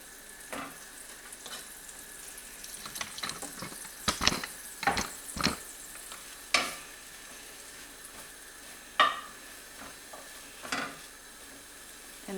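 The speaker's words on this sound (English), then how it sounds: "frying pan is hot, just add the mushrooms." Sliced mushrooms frying in a hot frying pan, a faint background sizzle broken by scattered sharper crackles and clatters from stirring, close and quiet, without speech.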